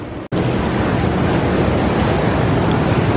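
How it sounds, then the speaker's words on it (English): Jacuzzi water at a spa bubbling and churning in a dense, continuous hiss-like rush, loud and close, starting abruptly after a brief gap at the very beginning. "now I'm about to go sit in the jacuzzi for a few minutes"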